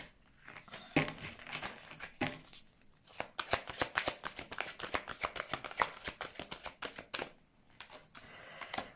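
Angel oracle cards are shuffled close up in a quick, rapid run of riffling flicks, with a few brief pauses before the shuffling resumes.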